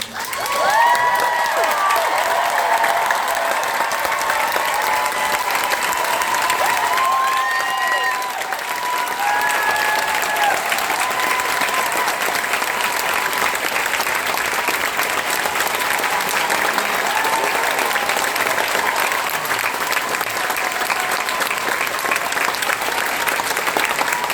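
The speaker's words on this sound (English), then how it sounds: "Can you put your hands together and cheer one more time for the people who originally inspired this?" A packed Broadway theatre audience applauds and cheers steadily at the closing performance of Come From Away in New York, with the dense clapping holding loud and continuous throughout and whoops rising above it.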